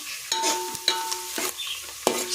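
Onion frying in a pan for a Konkani-style chicken rassa curry, with several stirring scrapes over a steady sizzle, close by and without voices.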